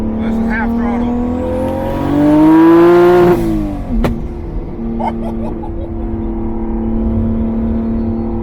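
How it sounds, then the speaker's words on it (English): Single-turbo N54 BMW 335i making 715 whp, pulling hard at half throttle in second gear: engine note climbs steadily in pitch and loudness for about three seconds, then cuts off with a sharp pop before settling into a lower idle-like drone. "I'm gonna do a half throttle second gear pull just to see like what it's supposed to feel like."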